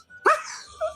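An animal held close by gives one sharp, loud bark-like call, then a softer, shorter call trails in near the end.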